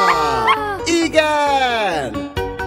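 A sung dog bark in a Hungarian version of the children's song Old MacDonald Had a Farm, a voice imitating the dog's bow-wow amid bright sung music, short repeated yips over a steady instrumental backing.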